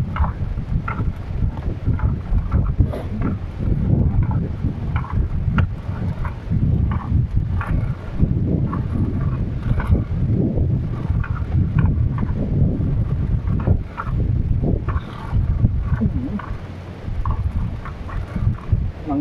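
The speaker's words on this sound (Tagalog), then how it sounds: "Amihan na yung ihip ng hangin dito sa amin" Northeast monsoon wind blowing steadily over the open sea on a fishing boat, a loud continuous low rumble of gusts buffeting the microphone throughout, with no talk.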